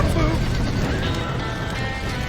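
Horses neighing and hooves clip-clopping amid a chaotic Red Dead Redemption video game scene, with the din loud and continuous under overlapping voices.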